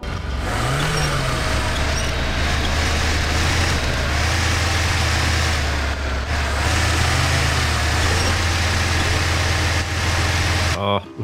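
Damaged vehicle engine running steadily in the video game Expeditions Arizona, a continuous low hum and drone at constant loudness, with a player talking over it.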